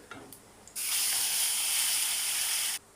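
A loud, steady sizzle as spice paste for an okra dish hits hot oil, bursting in suddenly and hissing evenly for about two seconds before cutting off.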